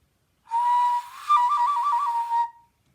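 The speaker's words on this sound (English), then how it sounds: "This one made by a former instructor, Mark, like an ocarina" A small clay pinch pot whistle, ocarina-like, gives a clear, breathy tone for about two seconds, briefly warbling up and down before fading out.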